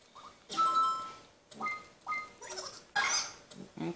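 Cartoonish dog barks from the Big Brain Academy video game, with several short yaps and whimpers spaced across the moment, mixed with a player's voice talking over them.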